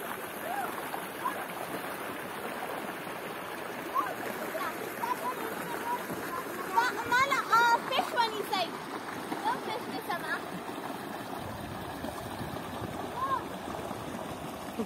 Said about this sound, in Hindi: पानी की आवाज़ इतना सुकून देती है